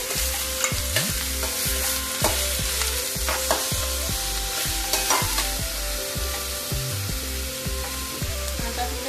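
Raw mango pieces frying in a pan for pickle, a steady sizzling hiss with repeated stirring scrapes over a constant tonal hum.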